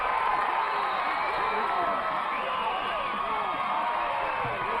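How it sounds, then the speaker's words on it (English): A packed high school football crowd roars in the stands at a Ridgeview game at Frontier High School, a steady dense wall of cheering and shouting that stays loud throughout. "Look at that crowd. They are pumped."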